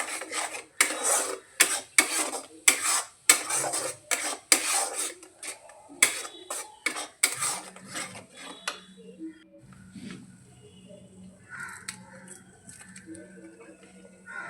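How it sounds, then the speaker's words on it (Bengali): Yogurt and cashew paste stirred in a pan, a rapid series of loud scraping and rasping strokes of a spoon against metal that later thin out into softer, sparse scrapes over a low background hum. "দিয়ে ভালো করে নেড়ে চেড়ে এর থেকে তেল বেরিয়ে এলে তারপর আমি জল দেবো।"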